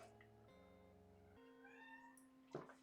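Pet cat meowing insistently, a few drawn-out tonal meows in quick succession, fairly faint and indoors, followed by a short sharp noise at the end.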